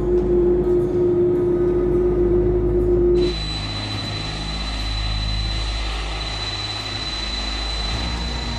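Airliner flying from Los Angeles to New York's JFK, a steady engine drone with a tonal hum that shifts partway through, continuous and fairly loud throughout.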